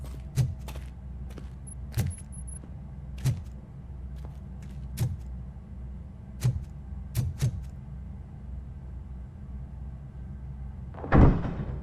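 Door being worked open in the video game Robocop Rogue City: a series of sharp metallic knocks and thunks at irregular intervals over a low hum, ending in a louder heavy clunk.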